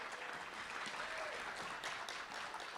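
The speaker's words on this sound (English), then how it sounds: "It's okay, you can clap." An audience claps at the opening of a live evening show, dense and steady applause filling the short stretch with no voices on top.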